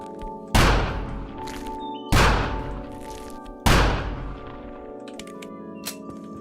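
Three heavy gunshots fired at a ceiling in the video game The Final Station. The loud, booming blasts come about one and a half seconds apart, each one ringing off into a resonant tail over a steady game backdrop.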